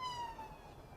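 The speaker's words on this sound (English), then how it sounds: "we're looking at the police car that's coming down the hard shoulder" A police car siren sounds along a motorway's hard shoulder, a steady rising-and-falling electronic wail heard over dull traffic rumble for about a second.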